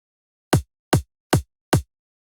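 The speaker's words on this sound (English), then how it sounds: "The second kick provides the click sound." Second kick drum sample in an FL Studio EDM track, supplying a click layer: four short, evenly spaced, snappy hits sounding alone at moderate level.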